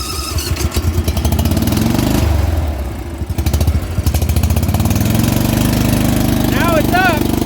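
A Dixie Chopper riding mower engine runs loud and close at full throttle, its steady roar sagging and bogging as it struggles to hold speed before recovering, with a brief squeal near the end.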